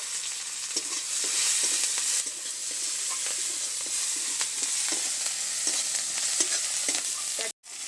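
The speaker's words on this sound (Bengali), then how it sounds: "দিয়ে দিচ্ছি ফোড়নের জন্য গোটা জিরে দিয়ে দেবো পেঁয়াজ কুচি সব কিছুটা একটু নেড়ে চেড়ে নেব" Chopped onion and whole cumin seeds fry in hot oil, crackling and sizzling constantly while a spatula stirs and scrapes the pan with light repeated taps.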